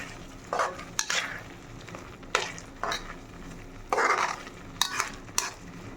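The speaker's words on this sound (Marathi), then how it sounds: "पाक झाला की याला थोडं फिरवत राहायचं, बुडाला लागलं नाही पाहिजे, अशा पद्धतीने याला फिरवायचं" A spoon stirs chana dal simmering in sugar syrup for puran poli, scraping the pot in several short bursts with soft sizzling bubbling between strokes, close and moderately loud.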